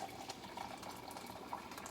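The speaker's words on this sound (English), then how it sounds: "now what I'm going to do is I'm going to put some boiling water." Boiling water pours steadily into a bowl of flour for cornbread, a soft continuous splashing trickle heard alone at low level.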